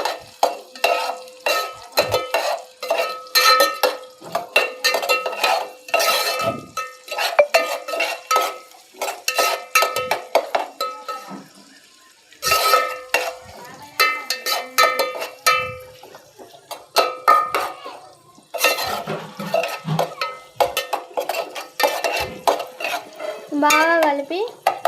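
Chicken curry being stirred in a pan, repeated close scraping and clanking strokes of a spoon in bursts with brief pauses, a light sizzle underneath, no voices.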